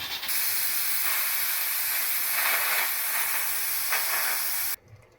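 A pressure cooker cooking keema gives a loud, steady hiss of escaping steam that lasts nearly five seconds and then cuts off abruptly.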